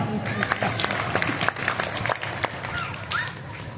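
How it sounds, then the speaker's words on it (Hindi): An audience at an open-air Hindi poetry recital in Sojat breaks into scattered applause, moderately distant and mixed with crowd noise and voices. "तालियां बजाओ"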